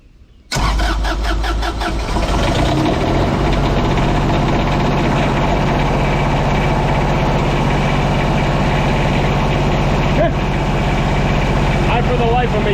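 An auctioned unit sold as inoperable, with a fancy relay in its starting circuit, cranks and catches, then settles into a loud, steady engine run close by, with a faint voice now and then.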